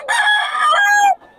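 A stag gamecock, a young fighting rooster, gives one loud, close crow that rises and then breaks off sharply after about a second.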